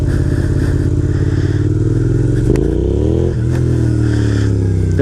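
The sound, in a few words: dual sport motorcycle revving for a power wheelie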